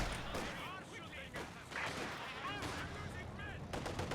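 Sniper rifle shots ring out in Company of Heroes 2, a Wehrmacht match, amid a dense, continuous battlefield din of sharp cracks and rumbling gunfire throughout, with voices talking over it.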